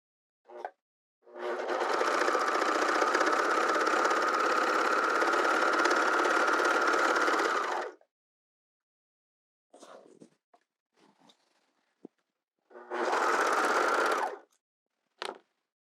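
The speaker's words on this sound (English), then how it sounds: "I'm going to do the sides with my serger and that top edge with my" A serger sews the side seams of a skirt in a long steady mechanical whirr for several seconds, then a few faint handling clicks, followed by a shorter second run of stitching and a brief final burst.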